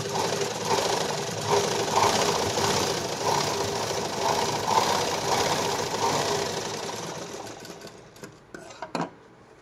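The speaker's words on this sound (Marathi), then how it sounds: "तर मग मी याला डबल शिलाई मारून घेते" A sewing machine runs a double stitch in a steady, fast mechanical whir with rhythmic needle clatter, close and fairly loud, then slows and stops with a few clicks near the end.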